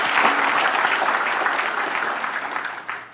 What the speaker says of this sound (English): I'd like to give our administrators a round of applause for that.